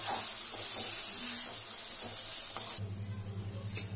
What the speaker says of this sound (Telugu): ఇప్పుడు కట్ చేసుకున్న 4 టమాటోస్ అయితే వేసుకుంటున్నాను. ఇది బాగా ఫ్రై చేసుకోవాలి.